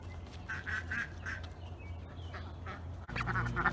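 Several ducks quacking in a garden in May, a cluster of nasal calls at moderate distance over a low outdoor hum, followed by a few fainter calls and a brief shift in background noise.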